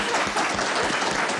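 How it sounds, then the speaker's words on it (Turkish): Studio audience at a Turkish folk song and poetry program applauding themselves, a dense, steady wash of many hands clapping for a short burst, loud and close with no talk over it. "Kendinizi bir alkışlayın."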